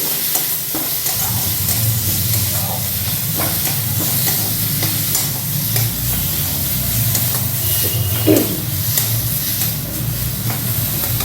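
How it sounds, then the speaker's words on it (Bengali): Chopped onion and garlic in mustard oil sizzle in a pan with a constant loud hiss, while occasional stirring scrapes come through close up, and no one speaks. "এবার এর মধ্যে আমি পেঁয়াজ রসুন কুচিটার মধ্যে দিয়ে দেব। দিয়ে একটু নেড়ে দেব এইভাবে।"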